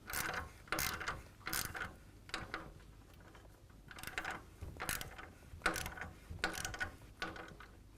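A ratchet tightens a clamp bolt on a 2010 Harley-Davidson FLTRX, its pawl clicking in quick repeated bursts of strokes, close and fairly quiet.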